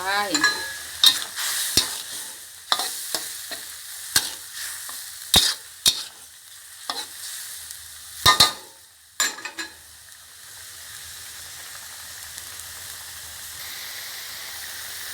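A Thai red pork curry with cha plu leaves bubbles in a pot while being stirred, with a run of sharp scraping and clattering strokes close by, then a steadier low simmering hiss as the stirring stops.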